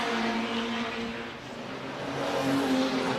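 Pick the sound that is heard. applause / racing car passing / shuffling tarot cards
racing car passing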